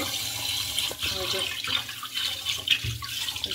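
Cleaned catfish rinsed under running water: a continuous splashing stream with uneven gurgles and spatters, close by.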